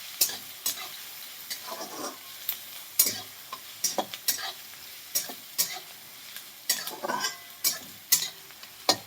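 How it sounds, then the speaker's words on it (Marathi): Chopped onion sizzles steadily in a pan while a spoon scrapes and stirs it in repeated, irregular strokes, close and moderately loud, browning for bhakri chivda. "तर इथं कांदा आपण असा तांबूस कलरवरती भाजून घेऊया।"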